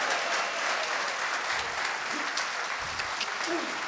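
Audience applause at a school poetry recitation rises as a soft, steady patter of many hands, faint and continuous throughout the short stretch.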